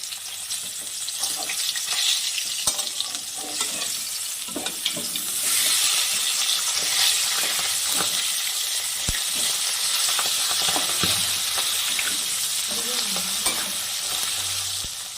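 Bacha fish sizzling in oil on its second side, a dense, loud crackling fry that swells midway, with intermittent scrapes and knocks of a spatula, no speech.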